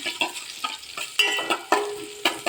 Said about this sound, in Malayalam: ചെറിയ ഉള്ളി വെളുത്തുള്ളി കരിയാതെ നന്നായി ഇളക്കി കൊടുക്കാം